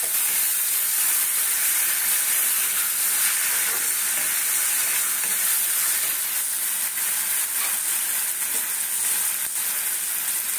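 Asafoetida and spices frying in oil with shrimp for a jackfruit-and-shrimp dish, giving a steady, loud sizzle and hiss that runs unbroken throughout with no talking.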